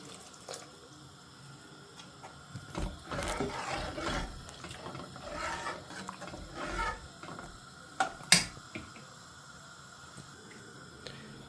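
Water from a vessel poured into a cooking pot of chicken and sauce, a steady gurgling pour lasting several seconds, followed by a sharp metallic clink of the container against the pot.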